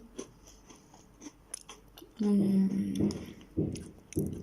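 Crunchy chewing of an Oreo cookie: a few loud, close bursts of crunching and munching that start about halfway through after quieter mouth sounds, with a brief tonal squeak mixed in.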